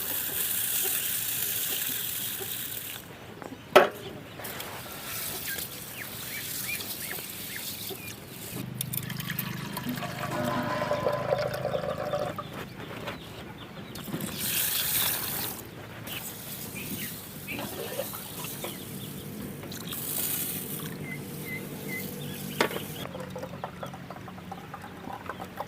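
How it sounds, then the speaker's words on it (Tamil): Water poured and trickling as rice is rinsed clean of stones, dirt and dust, a soft steady splashing with brief louder pours and a sharp knock partway through. "தண்ணி ஊற்றி சுத்தம் பண்ணி எடுத்துக்கலாம்."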